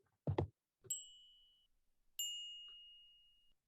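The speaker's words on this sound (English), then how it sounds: "So there you heard bell 1 and then bell 2." Two synthetic bell tones built from astronomical data sets, each a sharp metallic strike ringing out and slowly decaying, the second longer than the first, preceded by a brief low thud.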